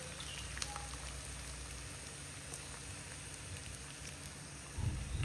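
Wheat flour snack frying in hot oil, one side done before turning, gives a steady dense sizzle and crackle throughout, with a louder bubbling burst near the end.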